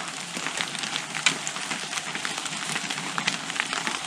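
Rain patters steadily on a hammock camp in autumn woods along the Loyalsock Trail, a dense, even hiss of drops with occasional louder taps close by.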